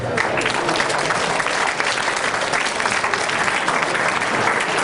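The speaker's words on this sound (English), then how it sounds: "Big round of applause, please" An audience gives sustained applause, many hands clapping in a thick, even wash that stays loud and steady from start to finish.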